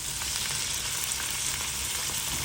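Chicken breast sautés with onion in a hot pan, a dense and continuous loud sizzle that holds steady and close from start to finish, with no talking.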